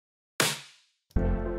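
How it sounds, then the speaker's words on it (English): Smashy snare drum sample with a harsher attack in a music production: one sharp, bright crack that decays quickly, followed by a louder sustained pitched tone near the end. "Here's the smashy one."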